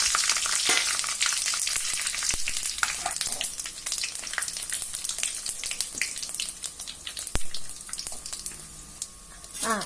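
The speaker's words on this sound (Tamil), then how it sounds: "இப்போ இந்த பட்டை கிராம்பு ஏலக்காய் சோம்பு இதெல்லாம் போட்டு பொரிச்சிடலாம்" Cinnamon, cloves, cardamom and fennel frying in hot oil for a peas and potato kurma, giving a loud, steady close sizzle with crackling pops and occasional stirring clinks throughout.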